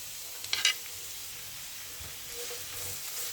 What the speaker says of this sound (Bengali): পেঁয়াজ দিয়ে আমি ভালোভাবে নেড়ে নিচ্ছি।